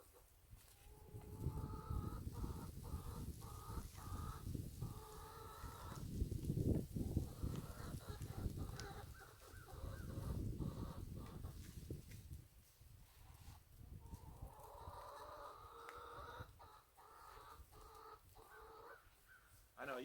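Backyard chickens cluck and squawk steadily for about twenty seconds, several birds calling over one another at close range, with loud bursts rising and falling and no talk.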